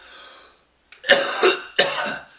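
A person coughing outdoors in fresh air to clear soot from the lungs: a long rasping exhale, a brief pause, then two loud, hacking coughs close to the microphone, alone without talk.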